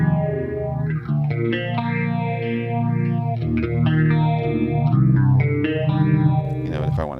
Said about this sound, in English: This is a clean sound with a phaser on it.